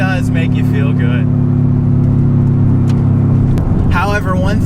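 Boosted Subaru WRX engine holding a steady low drone while driving, loud and close inside the cabin, with someone talking over it at the start and end.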